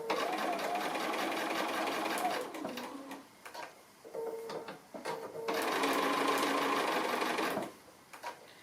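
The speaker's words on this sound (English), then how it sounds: "I'm just doing a line of sewing" A sewing machine runs a line of stitching in darker thread for a button pin cushion, its fast mechanical chatter coming in close bursts separated by short pauses.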